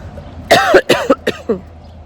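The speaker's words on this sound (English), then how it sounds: "I'm coughing, my head hurts." Several harsh, close coughs in quick succession, a rough burst followed by three shorter hacking coughs, with no talking.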